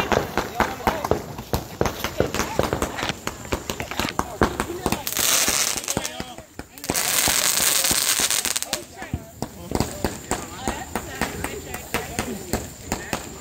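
Fourth of July fireworks explode in rapid crackling bursts and sharp pops, with two dense sustained barrages of sizzling crackle, while family members talk over the noise throughout.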